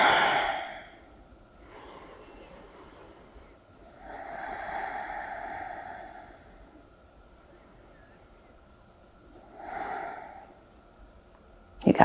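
Slow, soft breaths during a pause in a yoga session, with three audible exhales spaced a few seconds apart over a quiet background.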